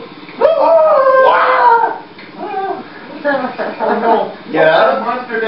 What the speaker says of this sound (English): Please get this dog off me!